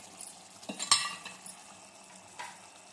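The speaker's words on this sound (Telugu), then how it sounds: "ఇప్పుడు ఇది బాగా కలబెట్టాలి." A spoon scrapes and clinks against a pan as chicken curry with mint, coriander and kasuri methi is stirred. The scrapes come in a few distinct strokes over a faint sizzle, close and fairly quiet, with no talking.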